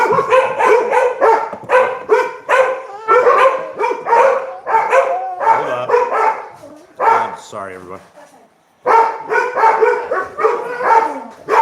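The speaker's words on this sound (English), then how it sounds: "The dogs are going crazy." A pack of nine pit bulls barks loudly and rapidly indoors, with dense repeated barks and a few yips. People talk over the noise, and there is a brief lull before the barking resumes.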